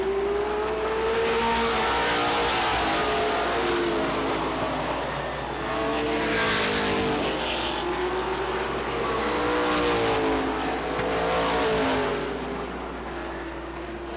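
Race cars at Lee USA Speedway's 1993 Oktoberfest roar around the track, their engines rising and falling in pitch as several cars sweep past in repeated waves of loud, whining acceleration, with no voices over them.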